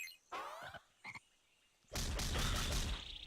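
A cartoonish frog enemy in the Putty Squad platform game gives two short, warbling croaks, followed by a loud burst of noisy game effects that runs to the end.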